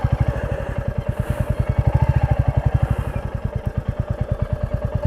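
A motorcycle engine labors close by on a rough trekking trail, with loud, fast, evenly pulsing thumps that hold a steady rhythm from start to finish.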